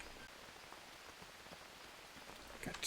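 Rain falls steadily in the jungle survival game Green Hell, a soft, even patter on surfaces, faint and constant, rising slightly toward the end.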